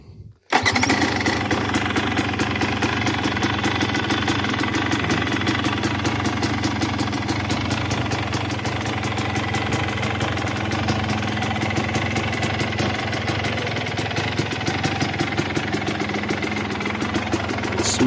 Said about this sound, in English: Let's get a startup sound, and I'm going to just put it around the yard a little bit.